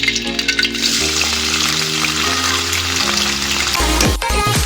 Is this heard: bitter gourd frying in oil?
yes